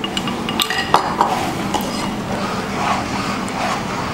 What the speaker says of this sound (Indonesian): Aduk-aduk sampai dia agak mendidih